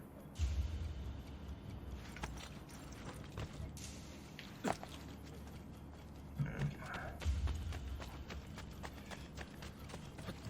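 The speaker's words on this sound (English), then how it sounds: "And jump onto the horse to follow." Horse hooves clip-clop at a steady pace in the Assassin's Creed Brotherhood video game, under a continuous game background. The footfalls are moderately faint, with a few louder thuds.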